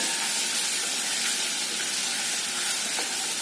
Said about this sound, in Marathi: त्यामध्ये हे आंब्याच्या फोडी घालायच्या तुपामध्ये थोडंसं भाजून घ्यायचं